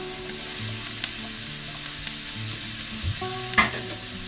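Mushrooms for beef and barley sizzle steadily in a hot pan, a continuous close frying hiss with a few soft clicks and one sharper knock near the end.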